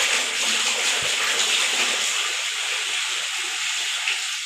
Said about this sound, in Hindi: तो इसमें मैं 4 लीटर पानी शामिल कर रहा हूँ।